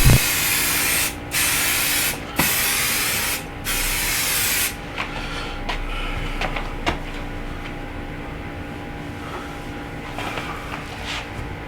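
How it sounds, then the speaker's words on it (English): Three bursts of 505 temporary spray adhesive hiss loudly, each about a second long with short gaps between, before giving way to quieter workshop sounds and a soft hum. "you could always spray a little band of the 505 temporary spray adhesive"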